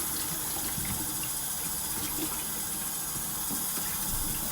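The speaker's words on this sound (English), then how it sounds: "And I'm going to really wash these stalks of celery." Running tap water pours steadily as celery stalks are washed under the faucet in a home kitchen, a continuous close splashing rush with no talk.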